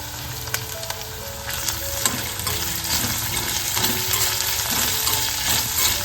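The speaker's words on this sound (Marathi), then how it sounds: "कांदा व्यवस्थित परतवायचा आहे" Chopped onions fry and sizzle in an oil-filled pan alongside bay leaves, a continuous close crackle with occasional stirring scrapes and clinks throughout, and no talking over it.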